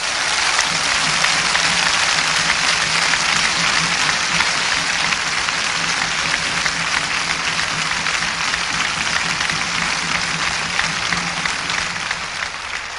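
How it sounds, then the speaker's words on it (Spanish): A church congregation applauds in praise during an evangelistic service, a dense, steady wash of clapping that fills the room loudly and without pause for the whole stretch. "Dé un gran aplauso al Señor Jesús."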